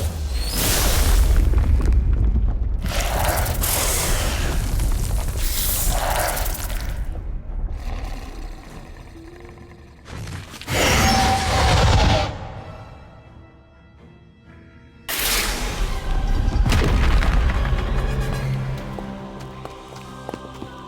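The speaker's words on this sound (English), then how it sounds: "What a mean thing to do, destroying perfectly nice statues." Heavy stone statues crashing apart in the Harry Potter: Magic Awakened video game, a series of loud booming impacts and rumbling debris in repeated bursts with quieter lulls between, no talking.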